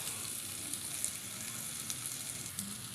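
Ginger frying in oil in a pan for Filipino chicken tinola, a steady close hiss and crackle lasting throughout with a few small pops and no talking.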